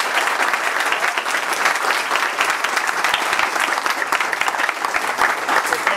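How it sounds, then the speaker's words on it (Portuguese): An audience at the SBGames 2013 games conference gives a steady round of applause, a dense, even clatter of many hands clapping that carries on for several seconds without pause. "Eu queria pedir uma salva de palmas aqui para o Ronaldo"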